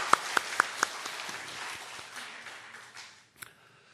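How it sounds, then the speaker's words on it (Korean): A church congregation applauds the choir with a few sharp, distinct claps up front that blend into a softer, fading patter of hands. "찬양대원들 격려의 박수 한번 해주세요."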